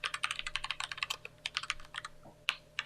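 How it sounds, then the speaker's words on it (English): Rapid typing on a computer keyboard with loud, clicky keys like an old IBM board, close to the microphone, in an irregular burst of keystrokes with short pauses and no talking. "Who's typing away?"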